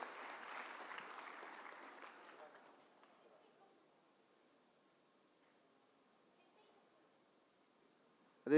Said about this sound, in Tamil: உங்கள் பலத்த கைத்தட்டலோடு அவரை அன்போடு வரவேற்கிறேன்.